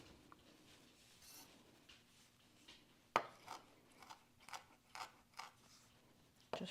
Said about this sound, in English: I'm going to give this a little chop because we want rosemary on our potatoes